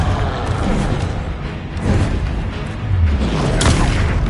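A Confringo blasting curse goes off in Hogwarts Legacy combat, loud booming blasts and whooshes layered over a continuous roaring battle din, with several heavy impacts across a few seconds and no talking.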